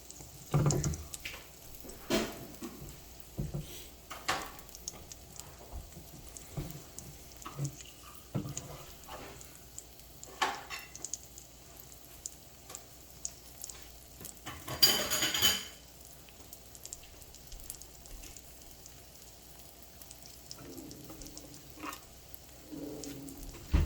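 A desi-style omelet cooks in a pan over slow heat, a faint sizzle under scattered clinks and scrapes of utensils against the pan, with one louder burst of activity midway.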